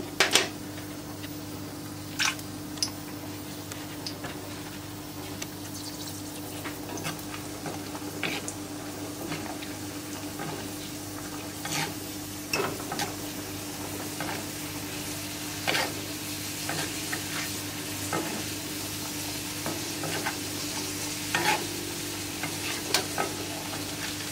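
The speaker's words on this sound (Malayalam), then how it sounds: "നമ്മൾ എടുത്തിട്ടുള്ള ഒനിയനും അതേപോലെ തന്നെ കാഷ്യൂ നട്ട് ബേസിനും കൂടെ ഫ്രൈ ചെയ്തെടുത്തിട്ടുള്ളത് റോസ്റ്റഡ് കാഷ്യൂനട്ടാണ്" Onion and roasted cashew nuts fry in a pan for mutton biryani, with a steady sizzle and frequent scraping stirs and clicks of a utensil, close and continuous throughout, with no voices.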